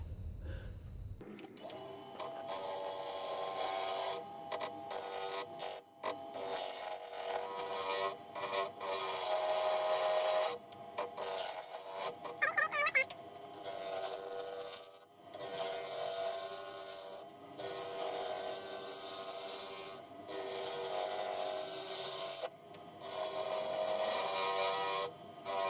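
A roughing gouge cuts wood on a lathe with a continuous rasping, scraping sound that swells and dips as the tool moves along the spinning piece, with brief pauses and no talking.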